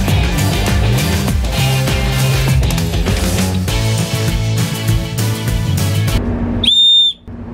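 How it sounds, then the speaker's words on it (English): A ship chief engineer's shrill whistle blast rings out briefly at the end of a fire and abandon-ship drill, after a stretch of loud, busy background noise, sharp and close. "So chief engineer's whistle is working all right."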